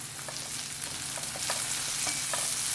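Two colours of capsicum are sautéed in a pan for dragon chicken, giving a close, bright sizzle with light spatula scrapes and taps while being stirred. No voice is heard.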